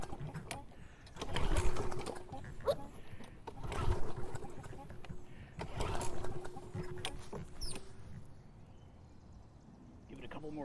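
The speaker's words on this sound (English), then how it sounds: "Probably gonna take a couple pulls to start." A GreenWorks gas lawn mower is pull-started outdoors. Several rasping cord pulls come a couple of seconds apart, each a short rising sputter, and the engine never settles into a steady run.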